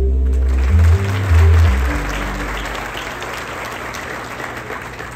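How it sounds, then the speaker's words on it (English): Crowd applause at the groundbreaking ceremony for the VinFast electric vehicle factory in North Carolina, broad sustained clapping from a large outdoor audience over low booming music that fades out early on. "Let's get one last round of applause for that entire group of fine folks who made this possible."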